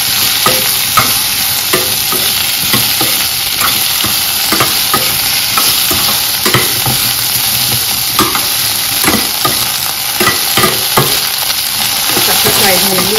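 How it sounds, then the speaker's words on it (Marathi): Okra pieces frying in hot oil over a high flame, a loud continuous sizzle broken by frequent scraping and stirring clatter in the pan, with no talking. "आता भेंडी फ्राय करून घेऊ आधी तेलात. मोठा गॅस करायचा आणि फ्राय करून घ्यायची"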